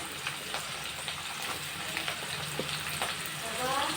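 Onions sizzle and crackle in hot oil for vangi bath rice, a steady close frying hiss with scattered pops and light stirring scrapes.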